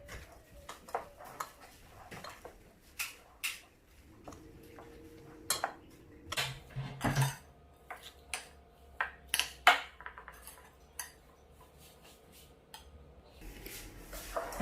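Potato roll filling with peas, chilli, lemon juice and whole and dry spices being mixed in a bowl, heard as scattered clicks and taps of a utensil against the bowl with soft rustling between, close and fairly quiet.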